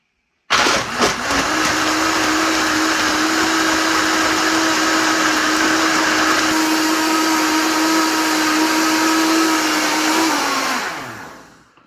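A blender starts abruptly and runs at a loud, steady whirring roar for about ten seconds as it turns almonds, vanilla and water into milk, then winds down and stops.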